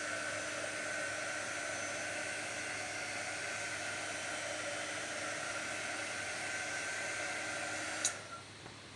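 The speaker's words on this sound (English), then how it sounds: "I just turned my heat gun on." Glue gun running as a steady, faint whooshing hiss that holds unchanged for several seconds, then ends with a small click and a drop in level.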